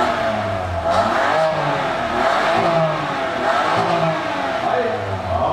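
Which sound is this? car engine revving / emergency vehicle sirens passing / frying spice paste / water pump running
car engine revving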